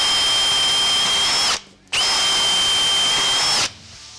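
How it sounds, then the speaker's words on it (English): A power drill fitted with a freshly sharpened bit bores through wood in two loud, sustained whining bursts, with a brief pause between them and no talking. "it goes through a lot better than what it did before it was sharpened"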